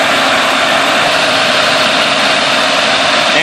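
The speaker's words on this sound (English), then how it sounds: "it will run a lot smoother and probably idle lower when I get all the vacuum lines reconnected" Car engine idling steadily right after a jump start with jumper cables, vacuum lines disconnected and no air cleaner fitted, a loud, close, rough continuous rumble and whir with no voices.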